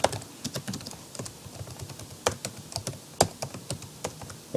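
Fingers tap quickly and unevenly on a computer keyboard, a close run of sharp clicking keystrokes with brief pauses and a few harder presses.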